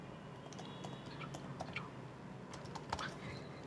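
Phone number being typed on a computer keyboard during an online registration form, heard as quiet, irregular key clicks in small bursts, close and soft, with faint background hiss.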